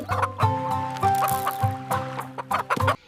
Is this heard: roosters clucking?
yes